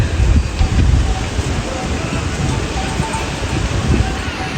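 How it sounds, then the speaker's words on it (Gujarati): Constant roaring splash of a waterfall along the Kedarnath trek fills the scene, with a person talking faintly underneath. "વોટરફોલ આવ્યો છે ફ્રેન્ડ્સ વચ્ચે"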